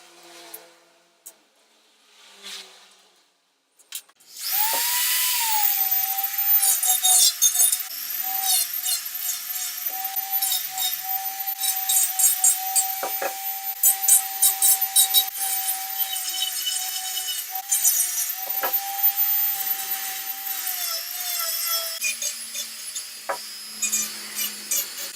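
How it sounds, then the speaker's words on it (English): A Dremel rotary tool with a sanding drum works the wooden edges of a homemade iPod dock: a brief quiet start, then a steady, close, high-pitched whine with gritty rasping that runs continuously to the end. "So now I'm going to switch to the sanding drum on the Dremel and clean up the edges of"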